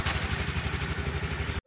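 A scooter engine runs with the throttle held slightly open during riding skills practice, giving a steady, close, throbbing putter that cuts off abruptly near the end.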